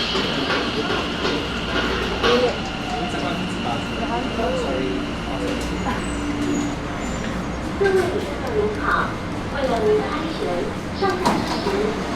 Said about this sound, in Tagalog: When the sound is starting, the train is coming.